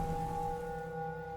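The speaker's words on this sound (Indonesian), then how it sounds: "Hujan semakin deras, ditambah petir dan kilat yang bersaut-sautan dengan derasnya hujan" Heavy rain pours down at night over a village, a steady wash of noise with a low sustained drone running beneath it and no voices.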